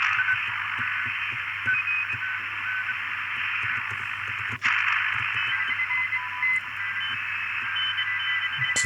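An ATS-Mini radio with an external wire antenna receives FT8 and FT4 digital-mode signals. A steady tonal digital warble rides over a constant hiss and hum and holds at an even level throughout.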